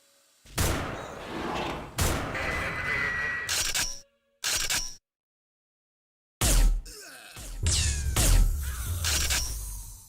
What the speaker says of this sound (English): And these 2 sniper shots